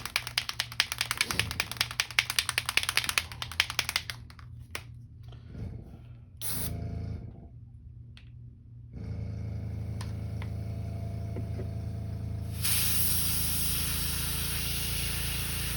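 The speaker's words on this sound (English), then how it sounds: "Just letting some of it come through the airbrush, make sure it's coming out." An airbrush hisses in short bursts and then a long steady stream while candy yellow paint is sprayed onto a custom crankbait. It is close and fairly quiet, with taps and handling noises between bursts.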